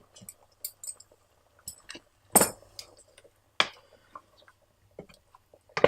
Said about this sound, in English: Let's take the lid off.